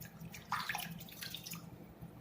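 Water runs from a tap and splashes softly over raw chicken being rinsed, quiet and close, with a few brief spatters.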